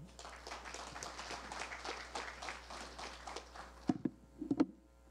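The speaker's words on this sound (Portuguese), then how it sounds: "Então, recebamos com aplausos aí o Guilherme Saraiva." Steady applause from a crowd fills the room for several seconds, then thins out into a few scattered louder claps and handling noises.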